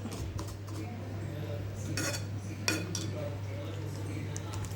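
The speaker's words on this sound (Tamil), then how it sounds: "கிண்டிகிட்டு இருக்கேன்" A spoon scrapes and clinks against a pan of coriander-mint chutney in a few quick strokes over a steady hum, with faint background noise.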